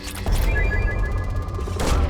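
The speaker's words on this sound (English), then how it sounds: "Probe launched." Mass Effect 2 probe launching: a loud booming blast kicks in after a brief lead-in, sustained rumbling whoosh with a faint tonal whine, then a second burst near the end, with no voices.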